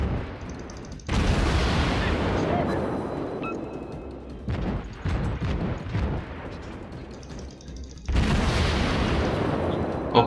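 Naval cannons on the warship Phoenix fire in World of Warships, loud booming salvos that come in three heavy bursts, each followed by a rumbling decay, with quieter crackling shots between them.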